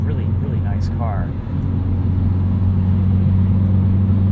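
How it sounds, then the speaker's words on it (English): A Hyundai Veloster N's engine and exhaust on overrun during a night drive: a steady, throaty low drone close inside the cabin, with a brief voice in the first second. "coming off throttle, you get a little bit of that throaty overrun from the fuel being let out through the exhaust"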